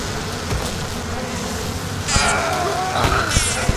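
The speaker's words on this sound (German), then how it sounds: "Böse Bienen!" A swarm of bees buzzing in the video game Bioshock, a dense continuous drone filling the scene, loud and close, with sharper swells of buzzing near the end.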